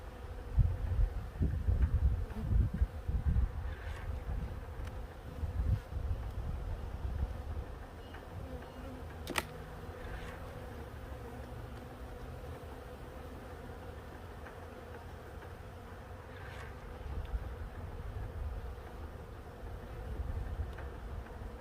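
Honey bees buzz steadily around an open hive during an inspection, a continuous close hum with individual bees droning past and some handling clatter near the start.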